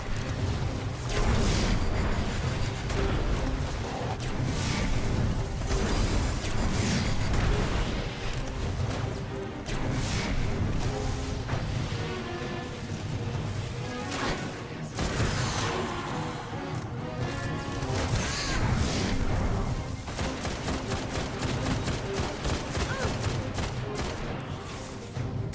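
Grenade explosions are spammed in the video game Destiny 1, with repeated booms, crashes and rapid bursts of game gunfire piling up in a loud, dense barrage that runs continuously without letup.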